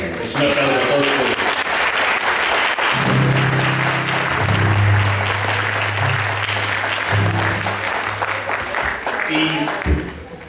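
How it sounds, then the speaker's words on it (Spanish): Audience applause at a community gathering in Iztacalco, Mexico City, steady broadband clapping lasting about ten seconds, loud and close, with speech and low tones running beneath much of it. "nosotros personalmente les queremos dar un aplauso a ustedes"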